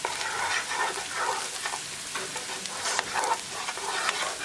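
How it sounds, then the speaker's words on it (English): Salt, black pepper, coriander powder and turmeric powder frying in oil for a tadka, stirred in the pan, give a steady close sizzle with soft scraping accents throughout, no voices. "Cook spices along with tadka for half minute."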